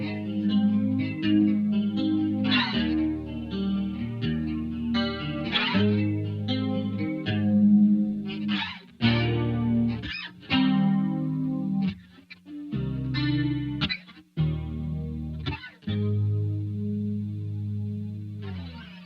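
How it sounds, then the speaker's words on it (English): A Fender Bass VI through a wide chorus preset on a Tone Master Pro plays shimmering, slightly distorted melodic lines, loud and alone with brief pauses between phrases. "so you got that wide chorus sound, and it sounds really great on pretty much anything"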